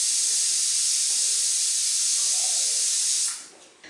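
A pressure cooker on the stove hisses out a loud, steady jet of steam while cooking greens with water, salt and turmeric, holding constant for about three seconds before dying away abruptly.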